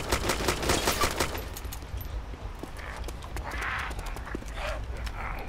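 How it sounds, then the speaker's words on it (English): Rapid gunshots in DayZ on the Namalsk map, a dense volley of close shots at the start followed by sporadic, more distant cracks. "I'm being shot."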